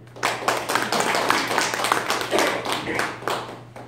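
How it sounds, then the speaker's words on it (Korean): An audience at a leadership lecture claps in a brief, lively burst of many hands, close and fairly loud, with a faint low hum running underneath. "잘한다고 생각하시는 분 박수"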